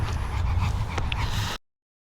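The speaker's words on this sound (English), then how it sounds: "Just brought my dog." A pet dog named Zeus whimpers and pants softly in a steady, close stream of breathy sounds for about a second and a half before cutting off, with no talking.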